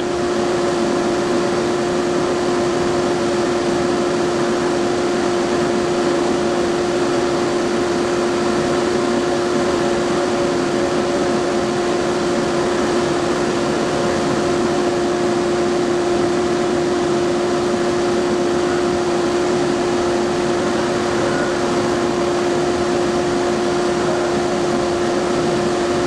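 A laser cutter works through 1/4 inch acrylic sheet, giving off a constant, even machine drone with a steady tonal hum and no breaks.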